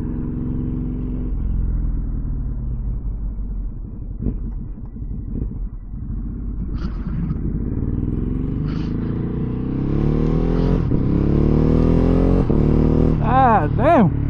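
A Ducati Hypermotard motorcycle with a quick shifter rides along, its engine note rising through several quick upshifts, then climbing sharply near the end, with heavy wind noise over the microphone and a rider's voice at times.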